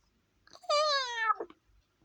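A male kitten lets out a single clear, drawn-out meow lasting under a second, close and loud in an otherwise quiet room.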